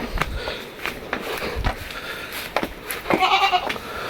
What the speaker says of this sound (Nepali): बाख्राले आइया भन्दैछ कहाँ हिँडेको भन्दैछ